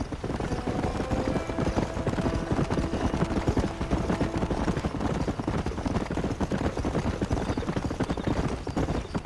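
Horse hooves galloping in Red Dead Redemption, a steady rapid clip-clop rhythm running throughout at close, even loudness with faint tack and ambient noise beneath.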